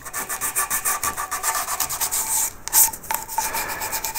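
Fine 320-grit sandpaper rubbing over a hand-carved wooden bow tie, strokes running with the grain in a steady, close rasping rhythm that stays continuous for several seconds, with one brief pause partway through.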